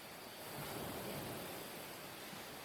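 Soft, continuous wash of waves breaking on a beach, the ambient seaside sound in the Pathfinder game, heard quietly and alone as a steady rushing hiss with no talk over it.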